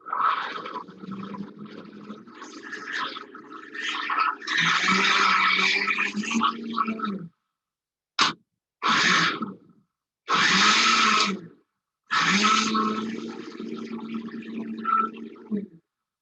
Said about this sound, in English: if you add too much at one time, it tends to clog the bottom of the blender